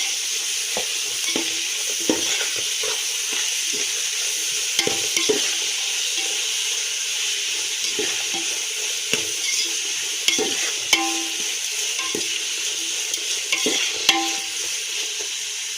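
Coriander and mint being stirred in a frying pan, with scattered scraping strokes of a spoon over a continuous soft sizzle, close and without speech.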